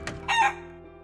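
A brief Orpington rooster call rings out nearby, a short crowing burst after a quick cluck.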